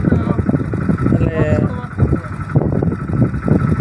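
A motorbike rides along the road toward Tharad, its engine and wind making a continuous close rumble beneath loud conversation from the riders.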